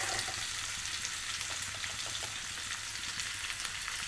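Onions sautéing in a pan with turmeric for an ivy gourd curry make a steady, close, even sizzle that does not let up, with no voices.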